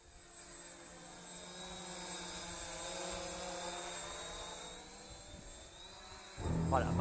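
An ACME Zoopa Evo Q550 quadcopter drone buzzes steadily nearby, a high whirring drone tone with shifting pitch as it struggles to hold itself stable, ending in a sudden louder clatter of handling noise.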